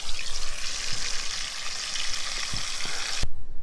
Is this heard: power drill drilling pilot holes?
no